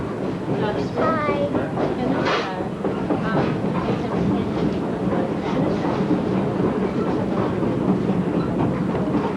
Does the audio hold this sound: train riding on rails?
yes